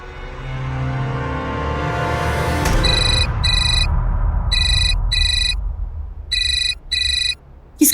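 A mobile phone rings with a bright electronic ringtone, repeating in short bursts, heard after a rising swell of background music and with no talking over it.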